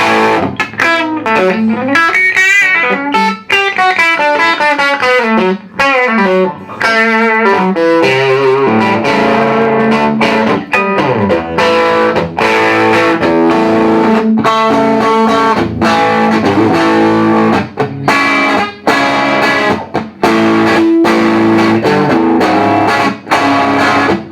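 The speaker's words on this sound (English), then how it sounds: "Great sounding guitar" A Fender Telecaster electric guitar with a rosewood fingerboard and a somewhat hollow tone is played loud through distortion and effects, with fast runs, bends and chords sounding continuously, alone.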